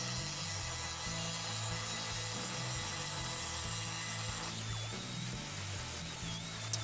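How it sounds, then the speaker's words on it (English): A Dremel-style rotary tool with a sanding bit works the edges of a fibreglass mold, giving a steady high whine over a continuous gritty grinding, fairly close and unbroken throughout. "now we just trim the mold up with the Dremel-like tool"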